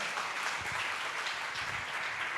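A church congregation applauding in unison, a continuous dense wash of clapping that sounds somewhat distant and moderately quiet, with no talk over it.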